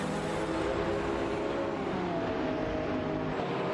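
Racing cars in a video game, a Lamborghini and a McLaren 675 LT running neck and neck, give a steady, loud engine drone that holds throughout with no breaks and no voices.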